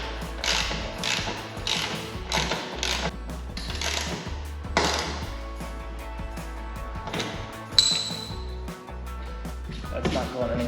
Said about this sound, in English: I'm gonna feed this down into the lower bracket using a 10mm socket.